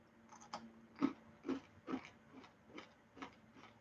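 Close, quiet crunching as a dried fruit snack is chewed, about seven rhythmic bites spaced evenly apart.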